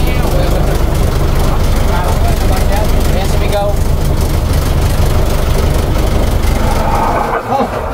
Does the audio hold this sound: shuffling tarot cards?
no